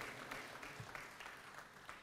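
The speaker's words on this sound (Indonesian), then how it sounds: "Tepuk tangan sekali lagi untuk Dewan Pertimbangan Partai Demokrat." Audience applause at a Partai Demokrat event introducing the party's advisory council, a brief spell of moderately distant clapping with scattered sharper claps over a dense wash.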